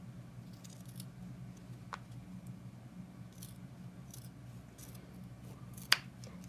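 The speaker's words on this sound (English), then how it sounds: "we'll just cut the edge just a little bit at the top so you can get into it." Scissors trimming a fabric edge while making a Santa doll: two crisp, isolated snips several seconds apart in a quiet room.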